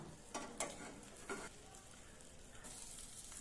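A bread omelette frying over medium flame, flipped in the pan: a soft, continuous sizzle with two or three quick scraping knocks from the turner, quiet and close, with no voices.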